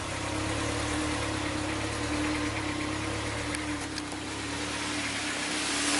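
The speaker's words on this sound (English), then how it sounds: "This car's got a weird idle." A car engine idles roughly in a steady, continuous drone with a low hum, close by and alone, no voices.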